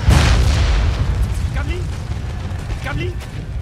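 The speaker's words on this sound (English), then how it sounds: "Some more howitzer fire there." Howitzer artillery fire in the Napoleon Total War battle game, a heavy booming blast at the start followed by a rolling, decaying rumble with faint distant impacts trailing off.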